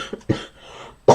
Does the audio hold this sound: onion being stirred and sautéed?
no